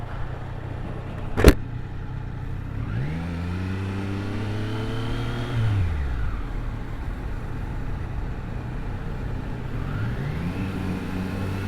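A 2024 Triumph Street Triple 765 RS motorcycle rides on a highway, its engine note climbing and dropping through gear changes, with a sharp knock early on and a quieter rev rising again later.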